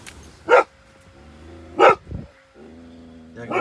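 A dog on an outdoor walk gives a few sharp, separate barks, loud and close, with quiet gaps in between and a soft whine near the end.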